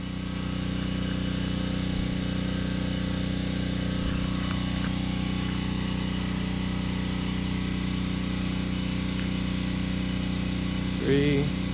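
A small pump powering a hydraulic stump-pulling winch drones as a steady, close engine hum, unchanging and loud, with people talking over it.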